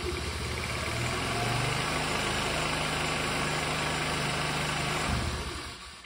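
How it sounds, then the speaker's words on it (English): Starter motor cranking on a GY6 150cc Chinese scooter with a fully charged battery, a strong, steady whirring drone lasting about five seconds before cutting off. "This is how the starter sounds when the battery is fully charged."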